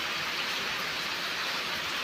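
Dense, steady downpour of heavy rain at night in a village, a constant wash of drumming noise with no gaps or voices.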